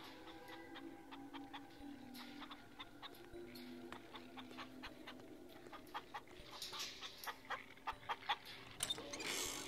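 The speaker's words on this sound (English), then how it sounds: "Three cages of chickens may feed the hog." Caged chickens in the audio game Papa Sangre cluck and flutter quietly at a distance, with sharper clucks and rustles growing louder toward the end.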